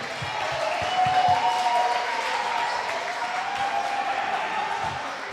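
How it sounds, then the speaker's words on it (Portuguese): Classroom group applauding a team presenting in a leadership course, a sustained burst of clapping from a small crowd that stays steady for several seconds with a few sharper claps. "Uma salva de palmas pro grupo 4"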